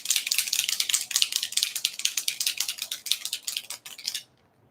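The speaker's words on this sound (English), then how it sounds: "I'm going to shake it until you hear that ball because that's mixing that mica." Spray can holding mica paint being shaken fast, its mixing ball rattling in quick rhythmic clatters that stop abruptly after about four seconds.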